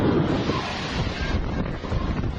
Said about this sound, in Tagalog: Sumisipol ang hangin.